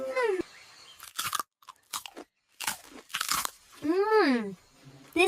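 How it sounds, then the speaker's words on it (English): Crunchy cookies bitten and chewed during a break on a jungle trek, short crisp crunches scattered between bursts of a voice that talks over and around them. "This is so crunchy and tasty."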